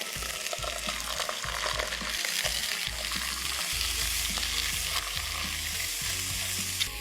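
Onion and garlic frying in a pan with mustard and cream just added, giving a steady, close, continuous sizzle with soft stirring throughout.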